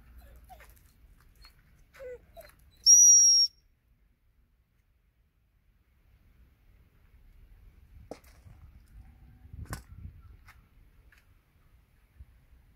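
One short, high-pitched whistle blast for working dogs sounds clearly against a quiet background, with faint rustling and soft thumps before and after.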